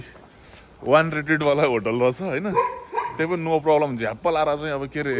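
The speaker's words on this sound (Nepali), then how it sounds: "यो कुकुर किन कराइरहेको छ भन्ने कुरा हामीलाई पनि थाहा छैन" A dog barks and yelps at a bus park in Beni, Nepal, its calls mixed into nearby people talking throughout.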